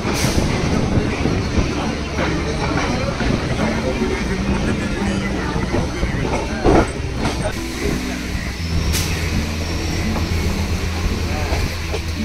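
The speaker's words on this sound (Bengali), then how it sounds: "আর এখন ঢুকছে মাঝেরহাট লোকাল" A Majerhat local commuter train pulls in toward the platform, a steady rolling rumble with rhythmic rail clatter and a rising screech near the end, while people talk nearby throughout.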